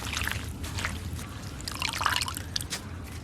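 Fresh moringa leaves being washed in water, with soft continuous splashing, trickling and dripping close by at a low, even level, and no voices.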